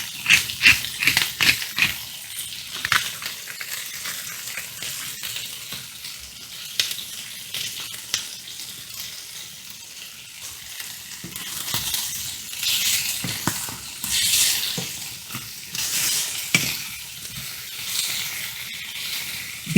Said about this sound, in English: I like to move the chicken around a little bit to make sure it's not sticking to the bottom of the pan